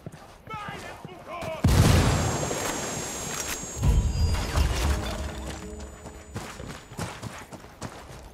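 A frag grenade goes off in the video game Ghost Recon as a sudden loud boom with rumbling debris, then gunfire and clattering effects trail behind while voices speak over the action.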